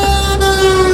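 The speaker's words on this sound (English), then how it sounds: "Let's see how many trucks honk their horns in 50 minutes." Loud, sustained air horn blast from a passing truck on the road, one steady tone held close by for about a second.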